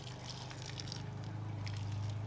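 Water trickles and splashes onto terrarium soil in a crested gecko enclosure, a steady close pouring with light dripping over a low hum.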